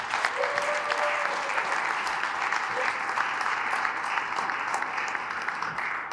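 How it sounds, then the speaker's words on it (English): A meeting audience gives a sustained round of applause, with even, continuous clapping from many people lasting throughout and no talking over it. "So let's give them a round of applause."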